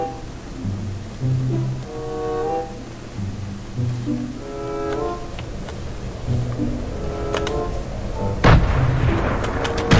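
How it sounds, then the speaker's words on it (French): Fortnite Battle Royale gunfire: scattered distant shots and pops over droning in-game engine and ambient noise, ending with a sharper nearby burst. "Oula, ça tire"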